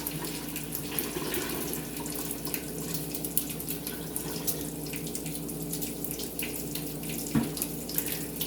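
Water pours steadily into a pitcher in a home kitchen, a continuous splashing rush with small gurgles, fairly close and with no talking over it.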